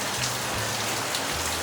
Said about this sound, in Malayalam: മഴ, ഫുൾ മഴ